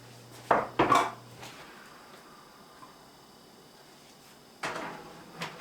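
A lasagna casserole dish goes into a hot June countertop oven, with a few clattering knocks of dish and oven door close by, then quiet, then another clunk near the end.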